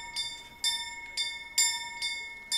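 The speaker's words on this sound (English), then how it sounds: "Oh, he's ringing the bell." Church bell rung repeatedly in the Kingdom Come Deliverance video game, five bright metallic strikes about half a second apart, each leaving a sustained ringing tone, moderately loud and alone.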